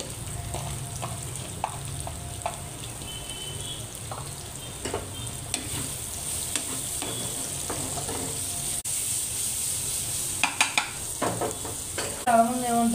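Onions fry in plenty of hot oil for a curry, giving a continuous sizzle broken by scattered spatula scrapes and stirring clicks, with a few sharper clatters toward the end.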